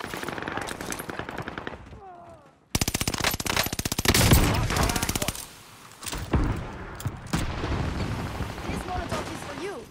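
Heavy video game gunfire, loud rapid machine-gun bursts with sharp repeated shots and booming impacts, broken by brief pauses, with a voice talking over parts of it.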